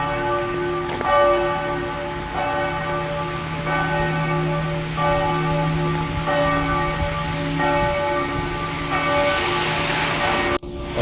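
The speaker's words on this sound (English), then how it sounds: "the bells are ringing from the church, from the cathedral" Church bells peal from the cathedral of Jászberény, a snowy winter town in Hungary, ringing steadily and loudly for the whole stretch with overlapping sustained tones and no voices.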